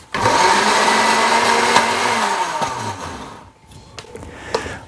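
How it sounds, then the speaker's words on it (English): A blender grinds wild lettuce leaves with a loud, close whirring roar for about three seconds, then cuts off, leaving quieter clatter and small knocks. "So the first thing you should do is grind them up in a blender, not very thinly and only just for a few seconds."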